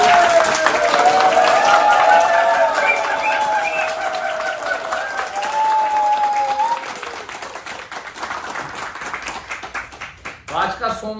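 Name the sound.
audience applause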